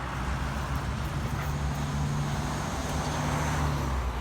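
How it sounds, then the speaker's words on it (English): Cars and road traffic beside the Shropshire Union Canal make a steady, continuous roar with a low engine rumble throughout, fairly close, with no clear single pass-by. "Sorry for the cars."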